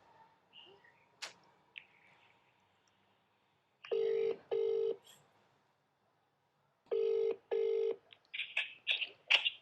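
A telephone being dialed, with a few short keypad tones, then two pairs of ringback tones separated by silence, faint rustles between, clear and close.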